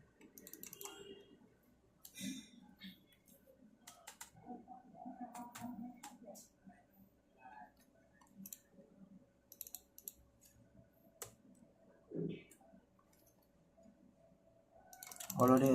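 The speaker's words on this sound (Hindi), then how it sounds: "मैं यहाँ पे थोड़ा स्पीड में टाइपिंग करके आपको समझाऊंगा" Fast typing on a computer keyboard while entering data in Excel, a close, dense run of quick irregular key clicks and taps with small pauses, ending in a louder burst.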